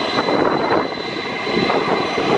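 A four-engine double-decker Airbus airliner passes low over Mai Khao Beach in Thailand, a loud, continuous jet engine roar with a steady high whine, no voices heard.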